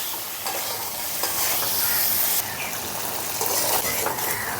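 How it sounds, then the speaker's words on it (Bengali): A spice paste with salt and turmeric is stirred in a pan for a Bengali village-style sarputi fish curry, with a steady close sizzle and soft scraping strokes and no talk. "নাড়াচাড়া করে মিশিয়ে নিচ্ছি।"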